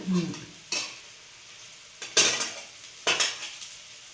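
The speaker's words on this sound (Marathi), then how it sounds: "चांगला परतून घ्यायचा कांदा तर लसूण टाकलं" Onion and garlic sizzle softly in a pan while a metal spoon scrapes and clatters against it in three or four distinct bursts of stirring, close and fairly loud.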